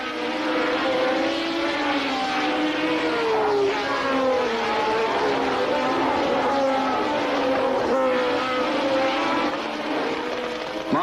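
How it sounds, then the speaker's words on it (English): Formula One race cars at the British Grand Prix at Brands Hatch, engines screaming as they rush down towards Graham Hill Bend, a continuous loud whine with pitch sweeps as cars pass, no talk. "Nielsen and his pursuers pass teammate Andretti as they rush down towards Graham Hill Bend"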